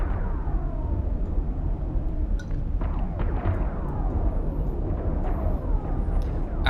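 A fireworks display inside a video game rumbles continuously with deep booms and crackling bursts, several whistling rockets streaking up over the dense low roar, loud and steady throughout.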